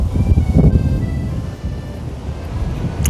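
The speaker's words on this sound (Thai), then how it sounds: "กิ่งไหวๆลมแรงมากลมแรงมาก" Strong wind gusts through flowering almond tree branches on the Greek island of Rhodes, a loud, buffeting roar that rises and falls with no voices.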